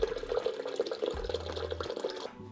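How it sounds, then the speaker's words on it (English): Water pours into the jug of a Magimix Power 3 blender, a faint, steady trickling stream with light splashing heard close up. "I'm actually going to start with the water and then put the oats in."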